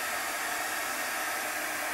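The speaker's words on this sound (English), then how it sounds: "I'm using a craft heat gun," A craft heat gun blows a constant, even hiss of hot air to dry chalk paste, close and steady throughout with no talking.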